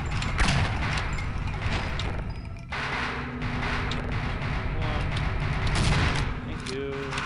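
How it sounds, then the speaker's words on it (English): Explosions and gunfire in the video game Half-Life, dense overlapping bursts of shots and booms that run continuously at close range, with a brief dip partway through before the barrage resumes. "Go to the explosions. You want explosions."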